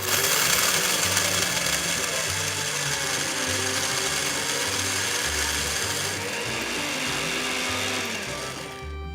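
Electric grinder whirring loudly and steadily as it grinds roasted peanuts and dried red chilies, a dense motor drone with rhythmic rattling from the jar before it winds down at the end.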